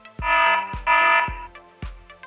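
A Hikvision AX Pro alarm system sounds its alarm: loud, close electronic siren bursts in a repeating pattern, each starting with a sharp attack and followed by a shorter chirp.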